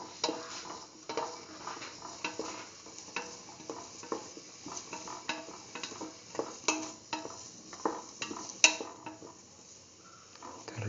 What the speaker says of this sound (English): Thoroughly sort and mix.